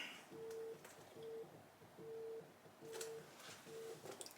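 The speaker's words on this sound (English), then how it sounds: "You hear that buzzing? That was my phone." A mobile phone vibrates on a surface in a quiet room, giving five short, faint buzzing pulses in an even rhythm, each lasting about half a second, with no one talking.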